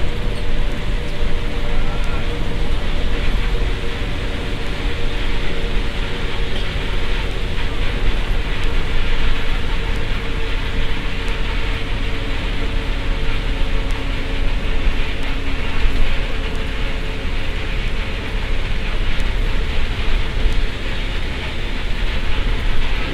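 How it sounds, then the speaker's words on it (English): Heavy rain drums steadily on a vehicle moving along a highway from Probolinggo to Surabaya in Indonesia, a dense, constant roar of water and road noise that holds at the same loud level throughout. "now you can see it's raining quite heavily now."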